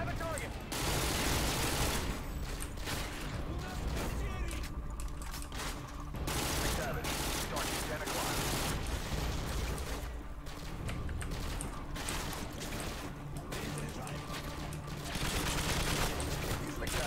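Gunfire in Call of Duty: Modern Warfare 2 multiplayer, dense bursts of shots and explosions filling the mix throughout, with someone talking over the steady barrage.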